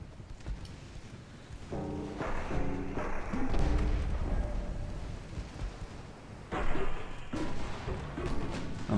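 Naval gunfire from 9-inch shells in a dreadnought-era warship game: deep booms and thuds roll under a steady rumble, with tonal game cues layered in and a heavy blast around the middle and another later.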